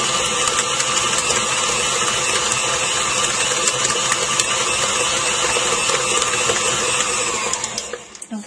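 Electric mixer beaters whir steadily through thick cheesecake batter, a loud close motor drone with a rattling mechanical texture that slows and cuts off at the end.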